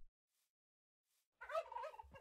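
A turkey in modded Minecraft lets out a single short gobble after near silence, close and clear, followed by a faint low thump.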